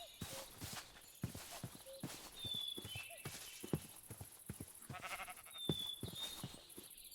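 Horses moving about in Minecraft, a rapid irregular run of hollow clip-clop hoofsteps with occasional animal bleats and high chimes mixed in, at moderate-to-faint level.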